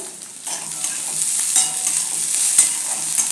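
Ginger and garlic fry with softened onions in a hot pan and are stirred, giving a loud, continuous close sizzle with soft scraping strokes and no talking.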